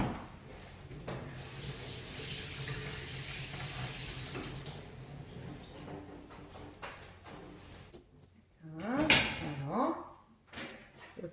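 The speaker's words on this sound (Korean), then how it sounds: "자, 이렇게 됐으면 찬물에 식혀서 물기를 제거해 줍니다." Cold tap water runs steadily over cooked mung bean jelly in a cooking-class kitchen, a continuous rush that breaks off near the end, with faint voices and brief handling sounds after.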